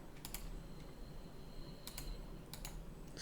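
Short bursts of computer keyboard key presses during 3D modelling work, a few sharp clicks in quick clusters with gaps between, fairly close over a quiet room hum.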